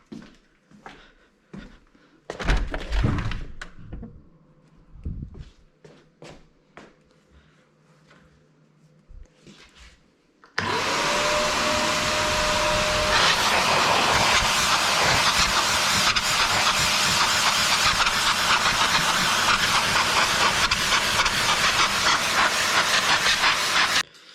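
Compressed air blasts dust out of a computer workstation, a loud continuous hiss that starts abruptly partway through and holds steady, after scattered clicks and handling noises.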